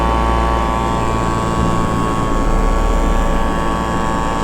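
SkyMax Star Frame RC plane flying at a steady throttle, a continuous loud motor and propeller drone with a constant buzzing hum throughout.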